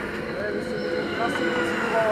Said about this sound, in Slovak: a už ide vlak